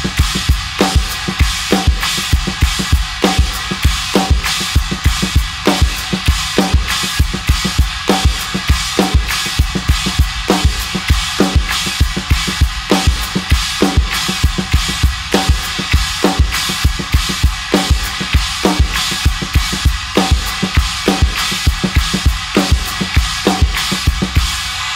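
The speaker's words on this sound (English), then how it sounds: "I'm going to use this china up here on my right, and I'm going to accent it heavily in the quarter notes" A drum kit plays a steady chorus groove in eighth notes, with a china cymbal on the right accented hard on each quarter note, loud, close and continuous for the whole stretch with no talking.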